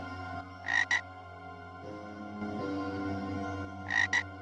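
Frogs croaking in the video game Hand of Doom: two short bursts of paired croaks, one early and one at the end, over a steady low hum and background game sounds.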